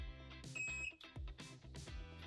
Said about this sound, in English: Once you hear the beep, the display will change to high